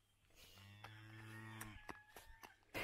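A cow in a summer village gives one long, loud, drawn-out moo, followed by scattered faint clicks and rustles.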